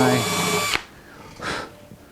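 Drill boring a very shallow countersink during a first guitar build, a short high-pitched whine that stops abruptly, then a brief faint second spin a moment later, up close.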